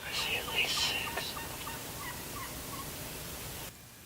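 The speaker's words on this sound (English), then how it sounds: "we had just gotten in the blind and the turkeys were going nuts" Distant wild turkey toms gobble early on a spring morning in Nebraska, followed by fainter scattered calls over soft outdoor hiss before the sound cuts away.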